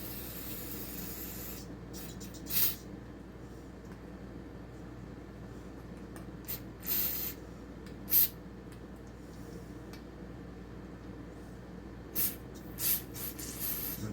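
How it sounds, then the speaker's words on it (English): Carbon choke cleaner hisses from an aerosol can onto a Cox .049 model airplane engine in several short, sharp bursts spread across a quiet background. "Carbon choke cleaner."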